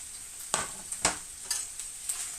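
Onions sizzle softly in a pan while a utensil clicks and scrapes against it a handful of times; quiet, close, no speech.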